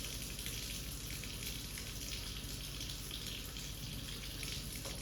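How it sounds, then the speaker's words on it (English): Water runs from a tap, pressed to dispense a sample for a lead-in-water test, as a faint, steady hiss and splash with no voices. "I'm just going to pull it directly from the source. So I'm pressing this down to add some water."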